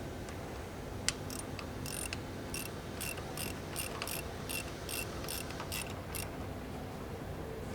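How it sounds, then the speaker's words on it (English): A series of quick, faint metallic clicks come in a fairly even rhythm as bolts are tightened with an open-ended wrench, set against a steady low background hum. "We're gonna get our open-ended wrench. These don't have to be crazy tight"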